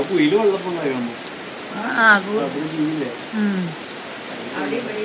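Heavy rain pours steadily beside a newly laid road, a constant close hiss running beneath a person talking throughout.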